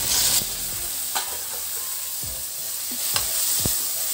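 Soaked brinjal pieces frying in hot oil for an anapaginjala masala curry, with a steady close sizzle and a few sharp scrapes and knocks of a spoon against the pan.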